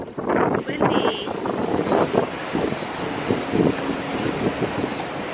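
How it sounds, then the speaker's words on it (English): Strong wind buffets the microphone on the open top deck of the cruise ship Independence of the Seas, a loud, continuous roar with a faint voice underneath. "Woo, it's windy."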